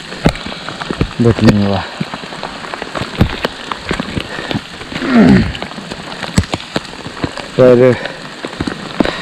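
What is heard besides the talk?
heavy rain on the Shrikhand Mahadev trek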